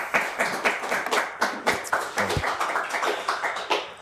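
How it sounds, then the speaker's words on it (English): A small studio audience at a high school quiz show claps for two teams after a Sandusky versus White Cloud match, with sparse, distinct handclaps in an uneven rhythm, close and fairly loud, with no voices. "Let's have a nice round of applause for two teams."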